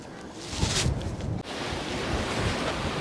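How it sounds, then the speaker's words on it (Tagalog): Strong wind blows at a pier by the sea in Cowes, Australia, a loud, continuous roar buffeting the microphone with a surf-like wash underneath and a brief dip midway. "Parang medyo malamig, saka medyo malakas ang hangin."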